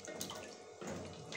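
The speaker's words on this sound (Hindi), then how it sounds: "हम इसमें 1 गिलास पानी शामिल कर देंगे।" A glass of water is poured into a cooking pot of browned arvi gosht, meat cooked with taro root. A soft, steady splashing trickle runs close by and fairly quiet.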